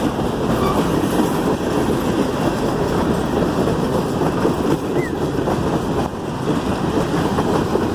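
Norfolk Southern freight train with coal cars rolling past in Hickory, a loud, steady rumble of wheels and rail clatter held close and constant throughout, with a faint squeal over it.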